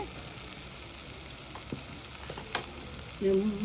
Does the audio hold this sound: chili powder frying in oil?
yes